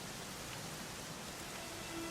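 Steady, soft rain falls in Dragon Quest XI, an even hiss of drops with no voices.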